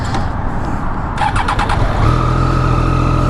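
A 2015 Triumph Daytona sport motorcycle roars loudly while being ridden, its engine note climbing and holding steady at higher revs, close and continuous with no talk.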